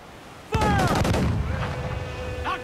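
Ship cannons firing in Assassin's Creed 4 Black Flag gameplay: a loud close volley of booming shots bursting in rapid succession, with rumbling echoes trailing off and another shot near the end.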